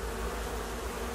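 Honey bees from colonies being removed from a house, a constant close buzzing drone from many insects, steady and fairly loud without pauses.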